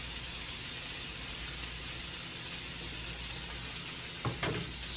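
Paprika stirred into a hot pan of chicken paprikash, sizzling steadily and fairly close, with a couple of brief scraping knocks of the utensil near the end.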